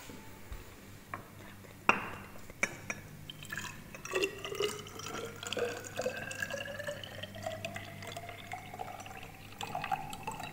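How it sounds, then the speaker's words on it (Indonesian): Distilled water is poured into laboratory glassware for a pomegranate-peel decoction, a trickling fill with rising pitch as the vessel fills, plus a few clinks and taps. "Kemudian kita tambahkan aquades sebanyak 100 ml."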